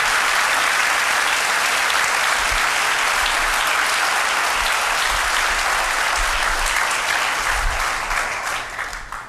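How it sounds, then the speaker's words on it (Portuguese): Church congregation applauding during an evangelistic service, loud, dense and continuous clapping from a large crowd that fades slightly at the end. "Dá um aplauso agora."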